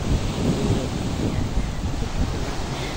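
Steady roaring surf at a beach in Mabini, Batangas, fills the air, a continuous broad wash of waves with gusty wind noise and no clear breaks.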